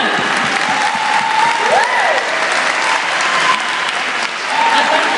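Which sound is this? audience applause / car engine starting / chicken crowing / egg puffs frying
audience applause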